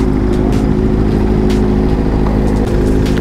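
Kawasaki Z1000 superbike engine roaring loudly and steadily at close range as it passes alongside, a continuous deep drone with no talking.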